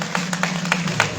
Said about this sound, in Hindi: तालियां बजाओ यार इस भैया की सब क्या